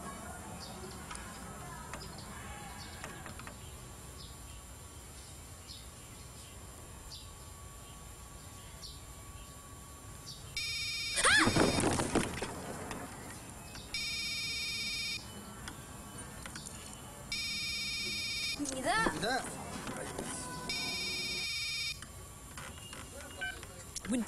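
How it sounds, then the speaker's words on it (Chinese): A telephone rings during a tense bomb-disposal police drama scene: a steady tone at first, then repeated electronic ringing bursts in an even rhythm through the second half, clear over a quiet background. "这时候来什么电话啊你？"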